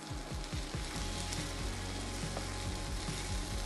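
Ground beef sizzles steadily in a little oil at medium heat for kimchi soft tofu soup, a close, continuous crackling fry with a few low thumps near the start and no talking.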